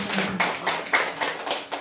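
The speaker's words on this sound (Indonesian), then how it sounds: "Tepuk tangan untuk PT BES." An audience applauds a company award for PT BES with steady, rhythmic clapping, about four crisp claps per second, moderately loud and with no talk over it.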